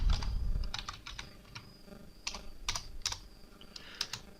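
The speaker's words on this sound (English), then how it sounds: "So I'm going to type my username and then I'm going to choose a password" Soft, close keystrokes on a computer keyboard as a username and password are entered, irregular clicks in short bursts with brief pauses, quiet room and no speech.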